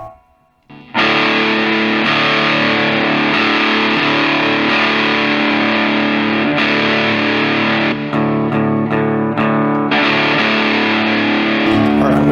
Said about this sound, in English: I'm going to try and play with the Boss DS1 as my distortion